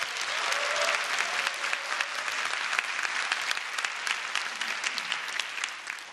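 A lecture audience in Korea breaks into applause, dense steady clapping that stays strong for several seconds before tapering off at the end.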